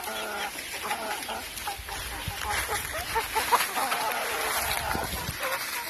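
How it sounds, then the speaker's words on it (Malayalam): Chickens on a poultry farm cluck and call nearby in an uneven chorus beside a shed, with soft scratching and pecking noises underneath. "ആ തൊഴുത്തിന്റെ സൈഡിലൊക്കെ കോഴികൾ പോയിട്ട് അവിടുന്ന് ചകഞ്ഞ് തിന്നുന്നുണ്ട്"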